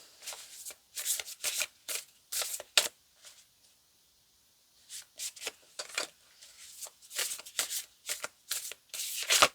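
Tarot deck shuffled in repeated bursts of crisp papery riffling, with a brief quiet pause midway before the brisk shuffling resumes, close and clear with no talking.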